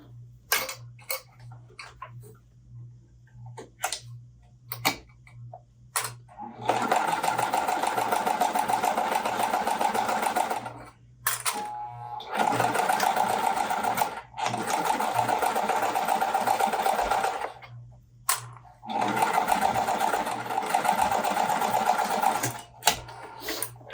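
A sewing machine runs quarter-inch seams on Village Green cotton quilt pieces in three long, steady whirring bursts, each separated by pauses with clicks and fabric handling and a faint hum underneath.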